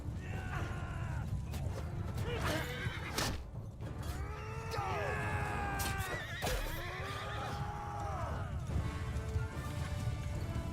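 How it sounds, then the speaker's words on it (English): Horses neigh and whinny repeatedly amid a busy Mount & Blade II: Bannerlord battle, several long wavering calls rising over a constant din of clashing combat and hoofbeats, loud and close. "Yeah, there goes your horse."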